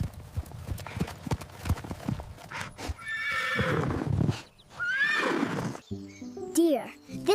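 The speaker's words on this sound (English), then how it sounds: "Horse." A horse trots with clip-clopping hooves and then neighs twice in loud, shrill, quavering whinnies near the listener, followed by a brief musical chime.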